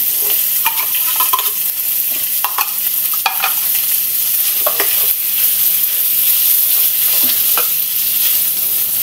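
Fatty corned beef frying in a pan, a loud, dense sizzle running throughout with scattered light stirring scrapes, no voices.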